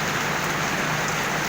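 Heavy rain pours steadily in Gravatá, Pernambuco, a dense, constant hiss of drops hitting surfaces, close and loud with no pauses.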